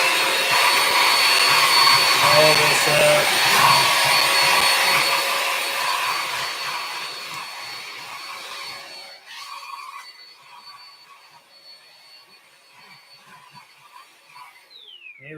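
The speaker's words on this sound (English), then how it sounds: "I'm going to vacuum this up." A shop vacuum roars loudly while sucking up dirt and sand, then powers down and whines away to near silence; a brief spoken phrase comes near the end.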